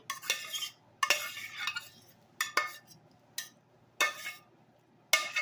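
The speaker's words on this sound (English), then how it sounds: "I'm gonna mix it up so it can marinate" Mushrooms and butternut squash being tossed into a dressing in a bowl, with bursts of scraping, stirring and clinking utensils repeating every second or so, close and separated by brief quiet gaps.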